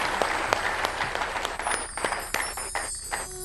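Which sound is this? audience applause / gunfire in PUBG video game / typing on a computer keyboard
audience applause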